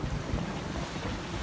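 Wind rushing past a sailboat at sea, a steady loud blustery roar with microphone buffeting and faint wash of waves, continuous and close.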